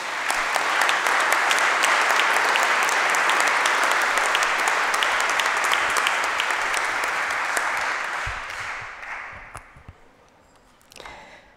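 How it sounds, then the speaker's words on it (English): Applause from a tribunal audience, a loud sustained round of clapping that fills most of the stretch before tapering off near the end, with a few scattered claps after. "I ask you to applaud her for it."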